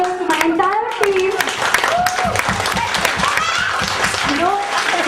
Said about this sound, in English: A big round of applause to all my leaders, to my entire team.